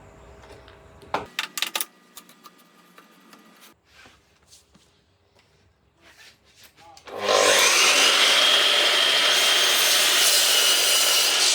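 Makita LS1219L mitre saw cutting blackbutt, a hard Australian eucalyptus: a few sharp knocks and quiet handling sounds, then the motor bursts to a loud, steady high whine as the blade bites into the hardwood.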